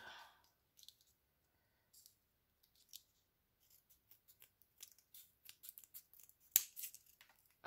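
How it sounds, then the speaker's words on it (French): Scissors snip through a plastic drinking straw in a quiet room, a run of short, crisp clicks and cuts that come faster toward the end, ending in one louder snap. "Donc, en gros, j'ai coupé la paille"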